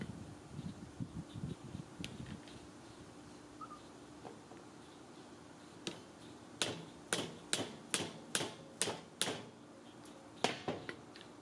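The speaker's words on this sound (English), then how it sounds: "Put a wheel on, place the hubcap on, and hammer it in." Hammer blows seating a hubcap onto a wheel of a Weber Original Kettle charcoal grill, about eight sharp metallic taps in a quick uneven series after earlier softer handling noises, close and crisp in a quiet room.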